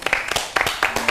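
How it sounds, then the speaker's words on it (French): A few people in a small TV studio clap to welcome a guest, producing sparse, uneven claps in loose bursts with no talk over them. "on va applaudir quand même"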